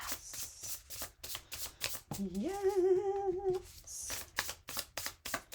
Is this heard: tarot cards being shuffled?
yes